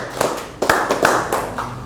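Children in a classroom clapping a rhythmic routine together, a short run of sharp, close claps in quick uneven groups, loud and alone.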